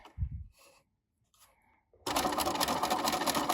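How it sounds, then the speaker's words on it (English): A few quiet clicks and handling sounds come first, then a sewing machine starts up close and runs loud and steady, stitching down the center of twill tape. "I'm going to sew right down the center of the twill tape"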